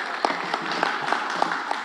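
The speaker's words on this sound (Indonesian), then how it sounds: "Kita berikan tepuk tangan yang meriah." Short burst of audience applause greeting introduced guests at an indoor political meeting, a dense wash of many hands with a few louder claps pulsing through, brief and moderately loud.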